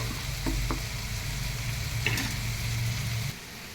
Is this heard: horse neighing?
no